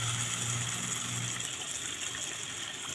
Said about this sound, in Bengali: এবার আমি মশলা করা জলটা দিয়ে দিচ্ছি।